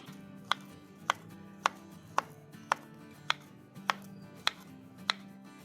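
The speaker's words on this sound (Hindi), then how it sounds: "सबसे पहले हमने केलों को छील लिया है, तो अब इसे कटिंग करेंगे" Peeled bananas cut on a board with a knife for a creamy fruit chaat: about ten crisp, evenly spaced chops land roughly every half second, close and fairly quiet, with no voices.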